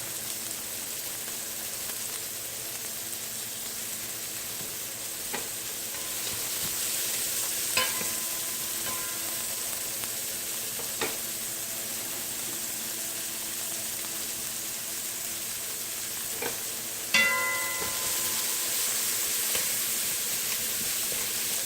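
Onions sizzle in a pot as the first step of sopas, a soft continuous hiss heard close up with a few light taps of a utensil against the pot.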